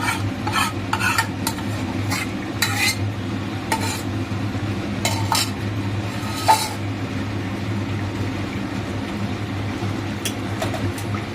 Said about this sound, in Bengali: বাটা মশলাটা এবার দিয়ে দিল দিয়ে এবার এটা ভালো করে কষানো হবে